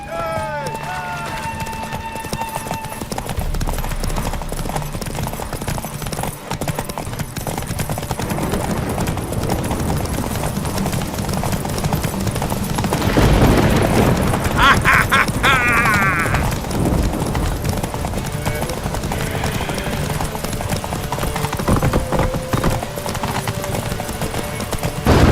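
Horses gallop in a race in the video game The Witcher 3: Wild Hunt, hooves drumming steadily and loudly throughout, with riders' voices and game effects layered over the running beat.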